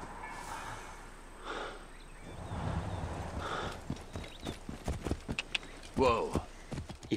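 Horse hooves clip-clopping in Assassin's Creed Origins as a summoned horse trots up, a steady rhythmic patter building in the second half, with a brief snort and talk over it.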